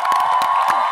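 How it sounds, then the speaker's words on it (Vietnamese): An audience at a Vietnamese comedy show applauds and cheers in a short, dense burst of clapping and shouts, loud and close, mixed with a sustained tone. "Và một tràng vỗ tay thật to dành cho tình huống vừa rồi của Hội Quán Tiểu Lâm."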